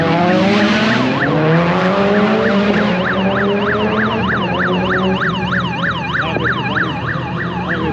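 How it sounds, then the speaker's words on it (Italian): A BMW's anti-theft alarm going off at an amateur drifting event in an industrial zone, wailing in fast repeating up-and-down sweeps over a steady roar of engine and tyre noise. "E ovviamente l'antifurto è ripartito con rumore"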